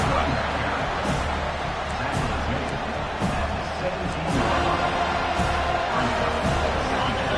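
A stadium crowd in the College Football 25 video game roars steadily as the defense holds in the red zone, with a continuous wash of noise under a play-by-play commentator's voice.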